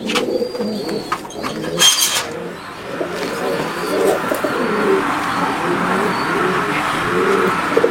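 A pair of MA3 high flyer pigeons being released outdoors, with soft cooing and bird calls over steady outdoor background noise, a few brief flutters or knocks near the start.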